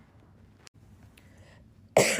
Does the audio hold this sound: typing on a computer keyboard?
no